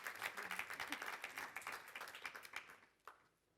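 Audience applause at a conference exchange session, a dense patter of many hands clapping at fairly close range that keeps up steadily and then thins out and fades toward the end.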